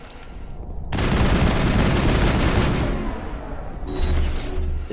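Spectre-grade guns firing in the sci-fi shooter Mass Effect: a loud, dense sustained burst of rapid gunfire running several seconds, easing briefly near the end before another volley, with no talking.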